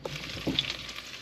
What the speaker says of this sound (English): We're just sauteing the bacon.